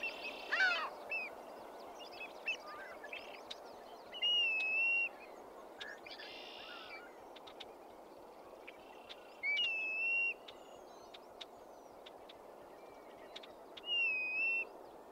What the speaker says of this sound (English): a black-bellied plover begins calling, a clear and insistent pew-wee that it repeats over and over